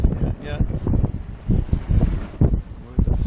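Wind gusts across a sailboat under way near Annapolis, buffeting the microphone in rough, loud bursts up close, with some voices mixed in.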